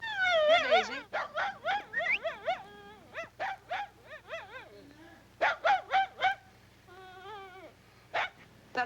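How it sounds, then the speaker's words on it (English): A dog whimpers and yips in a 1949 film scene, a series of high, wavering whines in close rapid bursts with short pauses between them. "That's my dog."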